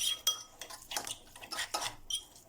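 Chimichurri herb paste mixed with a drizzle of olive oil in a bowl, a run of quick soft spoon scrapes and clinks against the dish, close and fairly quiet, with no talk.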